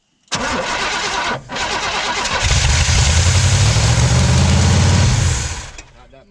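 An old, long-forgotten drag car engine pulled from a scrapyard fires up loud and close, then revs hard with the throttle held open in a rough, sustained roar before easing off, with people talking over it.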